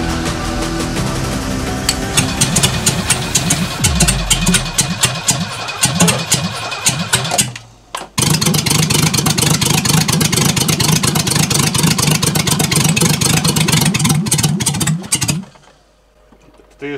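A 1972 Mercedes W116 engine, just revived after 20 years sitting in a garage, cranks and catches, runs roughly and revs, cuts out briefly, then fires again and runs loud and close before stopping.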